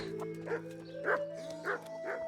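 A dog barks four times at an even, moderate pace in the video game Kingdom Come: Deliverance, each bark fairly close and clear above a steady humming background of game ambience and music, with no talking.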